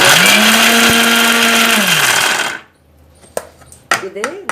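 A mixer grinder grinds ingredients for a green onion stir fry, a loud steady motor whine with rising pitch for over two seconds, then cutting off, followed by faint clinks and handling noises.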